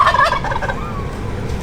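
A wild turkey gobbles once, a short rattling burst near the start, fairly close in the woods while hunting, followed by faint outdoor quiet.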